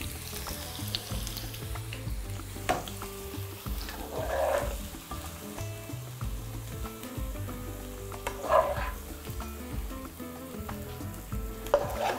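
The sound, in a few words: zucchini frying in a pan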